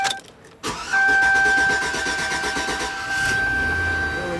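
A car engine cranks and starts, then settles into a steady run with a faint whine, close and loud; a quick clatter of handling comes just before the start.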